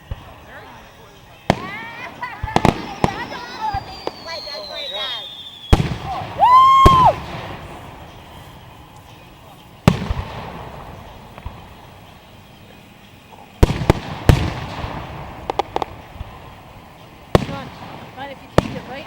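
Fireworks at the 2011 Ambler fireworks show burst in sharp, loud bangs scattered through the clip, some in quick clusters, with whistling rockets and crowd chatter filling the gaps between explosions.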